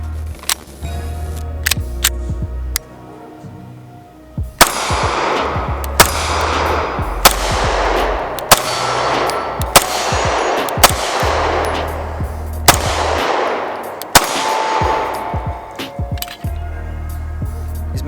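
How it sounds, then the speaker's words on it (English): An STI Staccato C compact pistol being fired: sharp, loud single shots spaced about a second or so apart, each followed by a long ringing echo, roughly a dozen reports across the stretch. "I've been dying to shoot it, so I have 2 mags loaded up."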